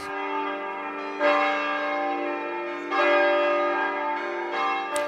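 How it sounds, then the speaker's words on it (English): Church bells at Mount Angel Seminary ring out loud and sustained, with fresh strikes roughly every second or two layering rich, lingering tones over one another, no voices. "Every 15 minutes, the bells remind you that you are Catholic."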